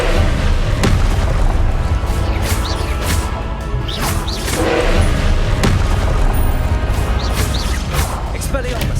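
Repeated Confringo spell blasts in Hogwarts Legacy, a string of booming impacts and crashes landing every second or two over a dense, busy game soundscape.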